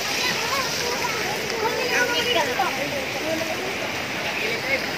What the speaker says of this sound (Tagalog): Lumalabas yung tubig na pinanligo ng mga nandun.